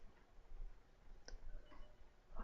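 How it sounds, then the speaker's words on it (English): Keyboard typing during a World of Tanks match played as the Aufklärungspanzer Panther light tank: a few soft, scattered key clicks spread over a couple of seconds, faint and close under a low background hum. "Now right now I'm going to be typing to my team."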